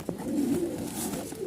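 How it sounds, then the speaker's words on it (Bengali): Racing pigeons kept in a loft give a short, close, throaty burst of cooing that runs continuously for about a second and a half. "তো আলহামদুলিল্লাহ এখানে আরও কবুতর দেখতে পাচ্ছেন।"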